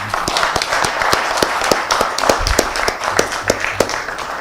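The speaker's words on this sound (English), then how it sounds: "A slightly more energetic applause," Audience applause at an MTG 12th Foundation Day event, a steady stretch of many hands clapping with sharp individual claps standing out, fairly loud and continuous for several seconds with no talk over it.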